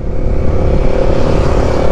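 Several big motorcycles pass by in a steady, loud engine roar lasting the whole moment, with no voices over it.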